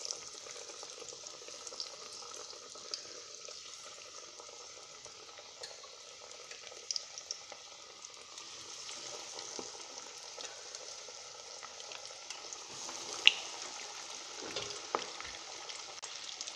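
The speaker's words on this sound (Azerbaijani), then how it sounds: "Hazırladığımız kotletləri yağın içərisinə əlavə edirik." Chicken cutlets frying in plenty of hot oil, a steady, fairly quiet sizzle and crackle with occasional pops, heard alone without talk.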